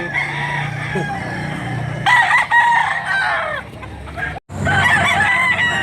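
A white-legged rooster of about two kilos crows loudly and close by at a poultry sale, with clucking from other fowl around it and a brief pause before a second long crow.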